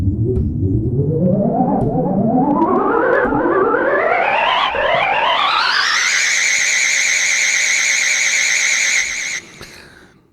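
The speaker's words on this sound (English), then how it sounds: "The Orion is an effect sound" Korg Kross 2 synthesizer effect patch named Orion: a loud, wobbling tone that sweeps upward in pitch for several seconds, then holds a steady warbling plateau before cutting off, with no talking.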